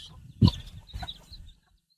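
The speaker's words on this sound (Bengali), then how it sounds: "মুরগি গুলাও আসছে।" Chickens on a village homestead in Purulia clucking in a few short bursts, loudest near the start and then trailing off into quiet.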